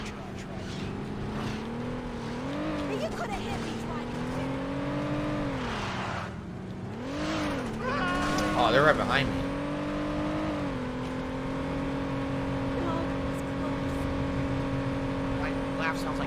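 A car engine hums and revs steadily in a video game, its pitch rising and falling through gear changes while someone talks excitedly over it.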